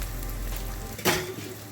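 Onions and garlic fry in a pan with a steady close sizzle, broken by one brief stirring scrape midway, and the sizzle softens afterward.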